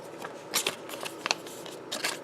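Vanguard trading cards are shuffled by hand in a quiet room, with soft papery riffles and flicks in a few short bursts.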